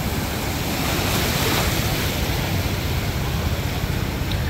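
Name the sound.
ocean waves breaking on a beach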